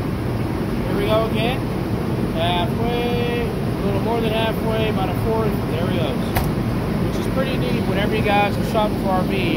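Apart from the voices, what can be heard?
RV's Cummins engine running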